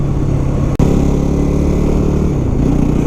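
A Yamaha WR250R dual-sport motorcycle puttering along back roads, its steady low engine drone loud and close throughout, with one brief dropout near the start.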